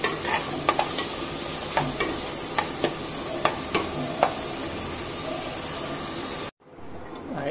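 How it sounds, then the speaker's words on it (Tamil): Steady sizzling of chicken frying in a pan for biryani, with scattered sharp clicks and taps from stirring, then an abrupt cut to near silence. "இது சிக்கன் பொரிக்கிறது, இந்த மாதிரி சாஸ் பொரிக்கிறது."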